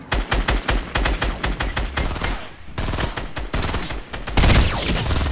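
Rapid, loud gunfire rattles through a Fortnite firefight in close, repeated shots with short gaps, building into a heavier burst near the end.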